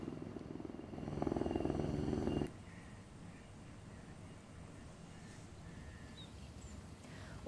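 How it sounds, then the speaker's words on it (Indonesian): A BNPB helicopter flies over the Mount Lawu forest fire in Indonesia, giving a steady low engine and rotor drone for about two seconds before the sound cuts to quiet outdoor ambience. "Helikopter BNPB masih beroperasi melakukan pemadaman di wilayah yang tak terjangkau jalur darat."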